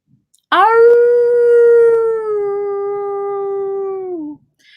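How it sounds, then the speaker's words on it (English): Dogs howl in one long, loud, sustained cry that holds steady for about four seconds before sliding down and cutting off, with silence on either side. "I did just hear the howling, so it's 8 o'clock."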